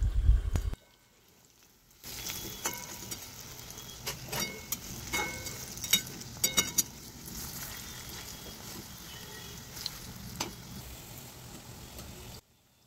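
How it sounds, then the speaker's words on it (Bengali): Green plantain fritters (boras) frying in oil over a medium flame, a steady sizzle with scattered crackles and pops that runs for about ten seconds after a brief louder moment. "বড়াগুলোকে বেশ সুন্দর লাল লাল করে ভেজে নিতে হবে।"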